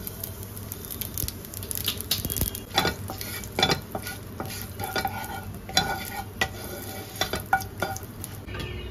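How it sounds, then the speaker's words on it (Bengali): Two dry red chillies and radhuni seeds sizzle in hot mustard oil in a pan. Sharp spatula scrapes and clinks strike irregularly over the soft crackle, close by and without voices. "ডালটা ফোড়ন দেওয়ার জন্য আমি প্যানে সরষের তেল দিয়ে দিলাম, 2টো শুকনো লঙ্কা দিয়ে দিলাম, আর রাঁধুনি দিয়ে দিলাম।"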